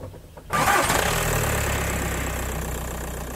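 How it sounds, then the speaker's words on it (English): A Skoda Fabia Mk1 1.9 PD diesel engine cranks briefly and catches, then settles into a steady, close, loud idle with a low diesel clatter throughout. "when I run the engine."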